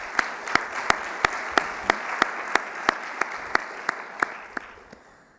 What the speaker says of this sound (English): So let's clap it up for them.